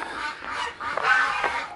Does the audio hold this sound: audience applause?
no